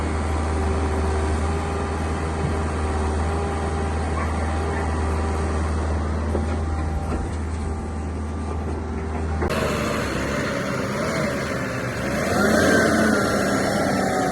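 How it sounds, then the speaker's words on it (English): A tractor pulling a loaded dump trailer rumbles steadily past at close range, its engine drone loud and continuous, shifting in tone partway through as it moves. "3 PM dump trailer, has a load to be tipped."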